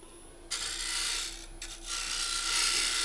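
A bowl gouge rubs its bevel against spinning wood on a lathe, a steady hissing scrape that breaks off briefly and then resumes, close and fairly loud over a constant motor hum.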